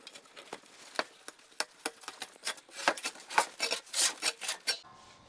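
An old felt seal is pulled and scraped off a clothes dryer drum, a close series of dry tearing, rubbing rasps in short irregular bursts that grow denser and louder toward the end.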